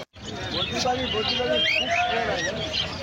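Pineapple conures, pet parrots, call and chatter in a dense, busy mix of bird voices that stays steady throughout, with a person talking over them.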